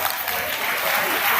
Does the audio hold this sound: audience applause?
yes